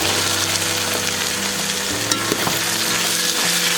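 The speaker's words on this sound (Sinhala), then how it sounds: "අපි ඒක ටිකක් සැම්බෙන්න තියෙනවා." Potatoes and carrots sauté in a pan with ginger, garlic, onion and curry leaves for a Sri Lankan vegetable biryani, giving a steady close sizzle with scraping stirs throughout and no talk.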